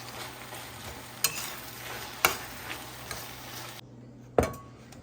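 A spoon stirs sautéed ridge gourd chutney with freshly added coriander leaves in a pan, giving a few sharp scrapes and clinks against a soft background sizzle, with no talking.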